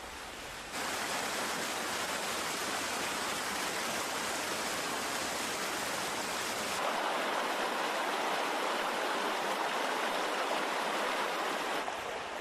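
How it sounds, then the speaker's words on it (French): Waterfalls in the Valley of Peach Blossoms on Mount Tai, a continuous broadband rush of falling water that stays steady and fairly loud throughout, shifting slightly in tone partway through, with no voices. "Aujourd'hui, ce sont les cascades qui attirent les visiteurs."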